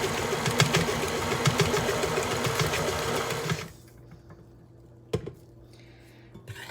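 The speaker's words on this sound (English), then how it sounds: "keeping your mixer on low. You're going to give it a good mix." An electric mixer churns tea cake dough on low speed with a steady mechanical whir that cuts out partway through, followed by a single sharp clink and quiet room tone.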